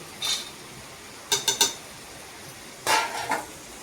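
Mushrooms, frozen peas and cashews being stirred in a pan for mushroom pulao, heard as a few sharp clinks and scrapes of a utensil against metal in separate bursts, with quiet gaps between.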